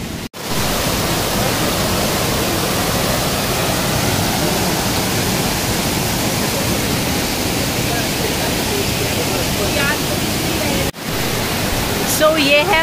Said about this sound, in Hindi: सो ये है वाटरफॉल भाई, जबरदस्त है, पानी ठंडा है